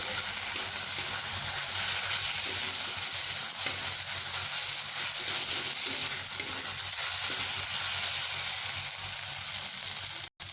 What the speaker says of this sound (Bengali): এবারে আলুগুলোকেও আমি একটু ভালোভাবে ভেজে নেব